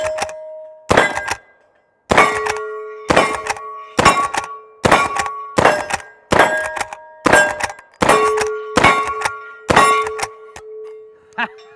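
Shots from a Henry 1860 lever-action rifle in 45 Colt strike steel targets, giving about a dozen loud, ringing metallic clangs at a fairly regular pace, each followed by a short resonant ring.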